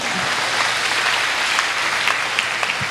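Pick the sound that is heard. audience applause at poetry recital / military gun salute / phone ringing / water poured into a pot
audience applause at poetry recital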